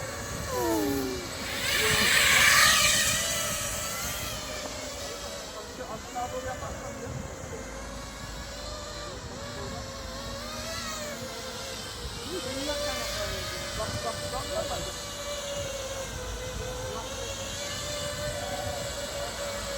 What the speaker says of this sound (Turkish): Gözlüksüz drone uçuşumuz.